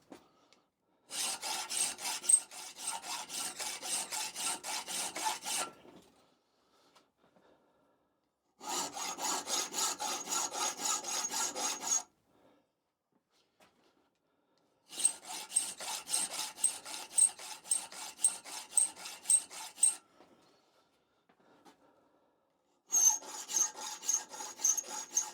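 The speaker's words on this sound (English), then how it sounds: "Why do I file at 90 degrees?" Hand file rasping on a metal part from a David Brown 990 tractor's draft control internals, four long bursts of steady close strokes separated by short pauses, with no talk.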